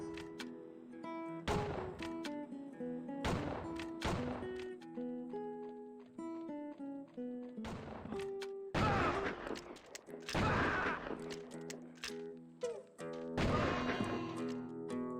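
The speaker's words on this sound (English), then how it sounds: "shoot a bunch of bad guys, progress through the level" Gunfire from the western shooter video game Outlaws: sharp bursts of shots and crashes land every second or two over steady game music, with a few denser volleys near the end.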